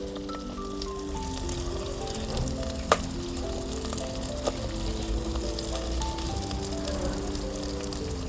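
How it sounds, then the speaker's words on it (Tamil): Onions and green chillies frying in hot oil in a pan over a wood-fired stove, a steady close sizzle with a couple of sharp clicks, while a musical melody plays underneath throughout. "இதை நல்லா சட்டியில் போட்டு வதக்கணும்."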